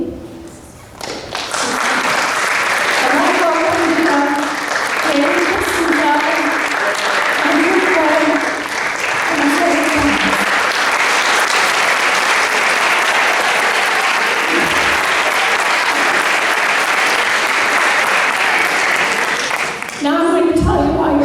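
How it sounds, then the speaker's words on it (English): Sustained audience applause at an 8th grade graduation ceremony at Lincoln School, loud and steady for about twenty seconds, with a few voices and some tapping mixed into the clapping. "Now I'm going to tell you why you're applauding"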